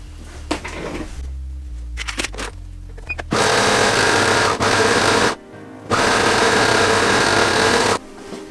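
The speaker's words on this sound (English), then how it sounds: "I'm just going to go real quick and do it on my serge" A serger runs along the side seams of a no-pattern pinafore dress in two loud, steady bursts with a short pause between them, after some quieter handling noises at the start.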